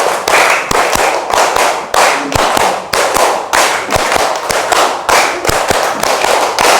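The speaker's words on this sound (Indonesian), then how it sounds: "tepuk tangan untuk semuanya" A class claps hands together in loud, sharp, rhythmic bursts, each with a strong slap at its start, repeating regularly at close range.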